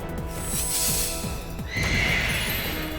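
Synthesized horse Pokémon neighing in Pokémon Scarlet, a repeated whinny over steady clip-clop hoofbeats and background music, with a brighter cry near the end.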